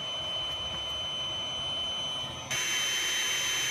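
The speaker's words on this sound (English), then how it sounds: "our little trooper of a mattress blower ain't giving up its ghost" Small air mattress blower running on a homemade gasifier: a steady, whining motor drone with a high tonal hum that jumps abruptly louder and brighter partway through, then holds constant with no talk.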